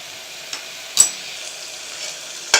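Tomatoes sautéing in a pan for tomato rice with half a lemon added, a steady close sizzle broken by a few sharp stirring scrapes.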